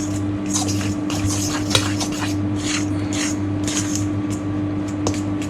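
Scalded flour and hot water for broa de milho being stirred in a bowl, a soft, continuous wet scraping and squishing with faint clinks, close and steady, with no talk.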